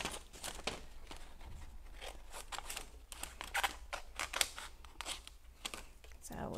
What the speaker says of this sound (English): So we're just snipping away the excess